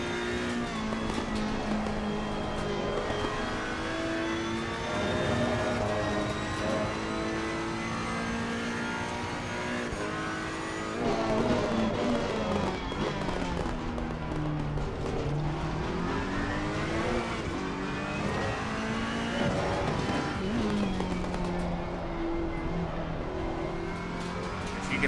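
A Ferrari race car engine howls around Barcelona in Assetto Corsa Competizione, loud and constant, rising and falling with each gear change and corner, heard alone without talk.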